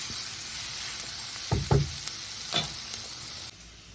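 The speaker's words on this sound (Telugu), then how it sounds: "మనం కుక్ చేసి పెట్టుకున్న బీన్స్ ఉన్నాయి కదా అవి వేస్తాం" Cooked cluster beans tumble into onions frying golden brown in a pan, giving a steady close sizzle broken by a few scraping stirs and thuds, with the sizzle dropping off sharply near the end.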